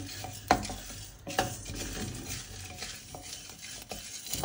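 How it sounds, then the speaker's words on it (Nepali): A spoon scrapes and stirs through dry semolina being roasted in a pan, with faint sizzling and occasional sharp clinks against the metal. "अनि सुजी पनि हल्का ब्राउनिस हुन्जेल भुट्ने।"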